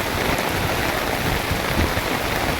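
Heavy first monsoon rain pours down in Nashik, a dense, constant hiss and patter of water hitting surfaces, loud and close with no voices.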